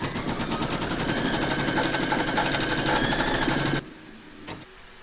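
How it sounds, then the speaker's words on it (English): An embroidery machine stitching a placement outline on hooped fabric, a rapid, steady mechanical chatter close by that stops abruptly near the end, leaving a faint click and quiet room tone. "pop your hoop into your machine and stitch round number 1"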